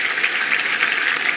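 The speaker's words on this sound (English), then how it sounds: "applause." Audience applause at the CitCon 2024 Star Citizen event, a brief dense wash of clapping at steady loudness with no voices over it.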